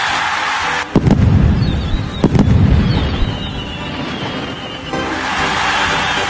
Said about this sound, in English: The egg firework.